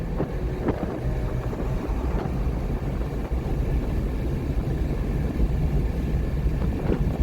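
A car accelerates at about 60 mph on the Daytona road course at night, its brakes failing; a loud, steady engine roar with heavy wind buffeting runs unbroken throughout.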